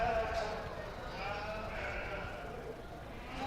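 Sheep bleat among a show crowd at a county fair sheep show with beginner showmen, the calls mixed into a steady, busy hum of voices and arena noise.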